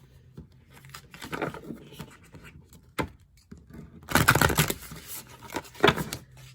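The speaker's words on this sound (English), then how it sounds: "Let me put this over here so I can shuffle" A deck of tarot cards being shuffled by hand close up, with soft papery riffles and scrapes in irregular bursts, the busiest stretch near the end, and no voices.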